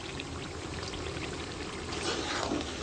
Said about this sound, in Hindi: इसके अंदर डालेंगे पानी,